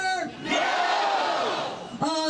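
A large crowd at a protest rally roars "No" in unison, loud and sustained for over a second, with individual voices audible at the edges.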